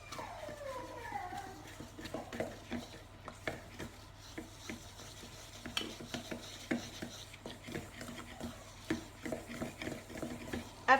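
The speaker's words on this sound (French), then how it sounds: "vous allez mélanger le beurre, la farine, donc vous mélangez vigoureusement." Butter and flour are stirred vigorously in a bowl for a sweet soufflé, making soft, uneven scraping and tapping strokes at low volume, with a faint hum underneath.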